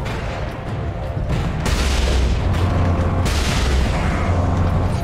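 A big laser weapon fires in Warhammer 40k Space Marine, heavy booming blasts and dense explosive rumble filling the whole clip, loud and close with a few distinct surges.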